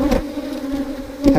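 Honey bees buzz steadily on a brood frame lifted from a hive during an inspection, a close, continuous drone that swells louder at the start and again near the end.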